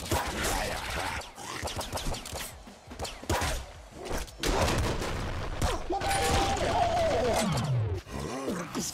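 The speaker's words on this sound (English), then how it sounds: "So it's a triple shot." A triple-shot weapon fires in Nuclear Throne, rapid bursts of sharp game shots with mechanical clicks and a descending electronic tone, busy and close.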